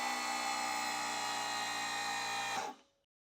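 A DeWalt 410 cordless angle grinder with an 8Ah battery pack runs at a steady, loud full-speed whine, then cuts off and quickly winds down to silence.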